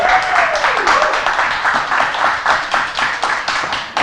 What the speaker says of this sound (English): Big round of applause for Dave, folks.